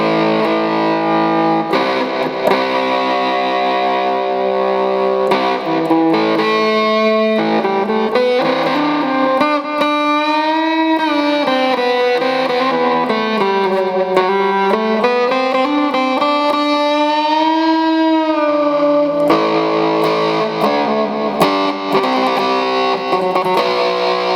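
A loud electric phin plays a bending melody through its built-in distortion effect and an amplifier, gritty and sustained throughout with no talking.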